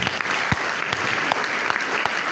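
Dense, steady applause from mourners at a funeral wake in a hall, many hands clapping together at close range.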